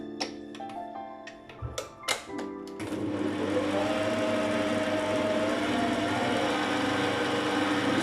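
An electric mixer runs at very low speed through cake batter for a moist buttermilk chocolate cake. It comes in after a few scraping knocks and then holds a steady, fairly loud whir to the end.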